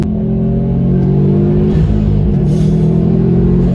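Subaru Impreza WRX STI accelerating hard with strong torque, a loud, steady engine drone and low rumble rising slightly in pitch across the pull, heard from inside the car with no talk.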